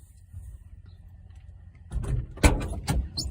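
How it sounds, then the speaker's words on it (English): A car door is slammed shut during a roadside police stop. The thud lands sharply midway through, with rustling and movement around it against a quiet interior background. "Will you shut this door?"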